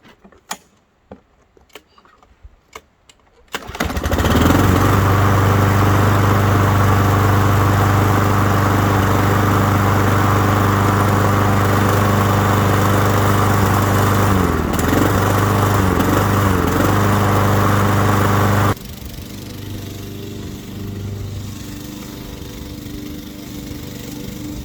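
A small engine at an off-grid cabin is primed and started: a few faint clicks and pulls, then a loud, steady motor drone that holds for about fifteen seconds and drops to a lower, quieter idle near the end.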